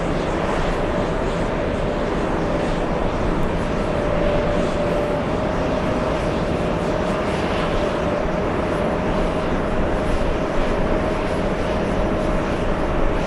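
A small Embraer jet at JFK Airport gives off a steady, moderately loud engine roar with a sustained whining tone running through it, continuous and without talk.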